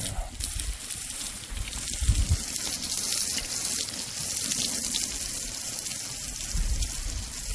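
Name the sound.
cold water hosing a horse's shoulder cut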